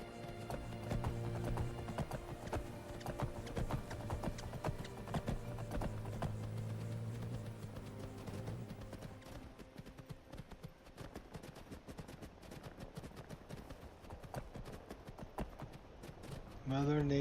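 The hooves of a Daedric horse gallop in Skyrim, a rapid, continuous clip-clop rhythm heard close and fairly loud over game music and ambience, with a person talking over it.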